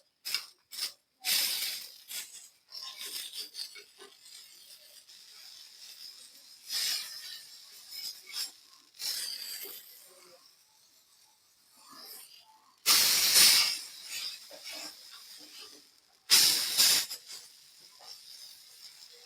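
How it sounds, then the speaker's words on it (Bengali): Dried fish sizzles and hisses as it toasts on taro leaves on a hot griddle. Soft crackling is broken by several louder bursts of hiss, heard close up with no clear talking. "আমি শুটকিটা হালকা টালা দিব দেখে যে কচু পাতাটা দিয়ে নিচ্ছি"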